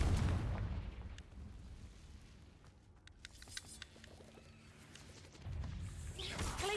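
Confringo fire-spell blasts from the game Hogwarts Legacy burst out in two broad, noisy rushes, one at the start and one near the end, with quieter scattered crackles and pops between them.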